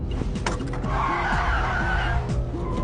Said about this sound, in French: puis son chauffeur écrase brutalement les freins